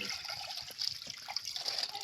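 Water runs steadily from a supply pipe beside a paddy field, a continuous close splashing trickle with faint clatter and bursts of noise throughout.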